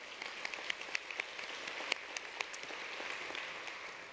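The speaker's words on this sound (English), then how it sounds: "that deserves a clap." Audience clapping at a charity luncheon program for domestic violence survivors, a soft, steady patter of many hands heard from a distance, with no talk over it.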